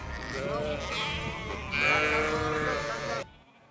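Ala-Too breed sheep bleat loudly at close range in two overlapping drawn-out calls, then fall quiet at the end.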